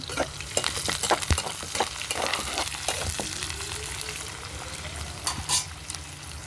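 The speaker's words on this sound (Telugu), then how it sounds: "ఈరోజు నేను తాలింపు వేసుకుంటున్నాను" A spoon scrapes and stirs a tempering of seeds, onions and curry leaves in a pan over a wood-burning stove, with irregular knocks against the pan above a constant close sizzle of hot oil.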